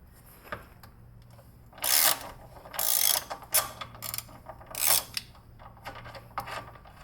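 A ratchet with an E12 socket works an engine mount bolt on a BMW E90, giving several close, loud bursts of rapid clicking separated by short pauses.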